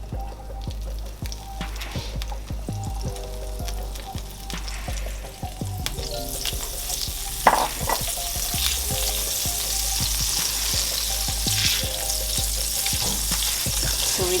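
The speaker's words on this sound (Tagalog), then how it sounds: "So, we just wait the butter until it's all melted." Butter melts in a hot pan while cooking chicken in orange sauce, a loud, steady sizzle and crackle with occasional stirring clinks and scrapes, building in intensity and heard alone without talk.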